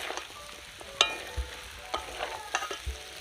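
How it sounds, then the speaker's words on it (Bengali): Chicken curry of country chicken being stirred in a pan with no oil, soft scraping and spoon knocks with a faint sizzle, quiet and close, no voices. "ভালো করে এরকম কষিয়ে নিয়েছি"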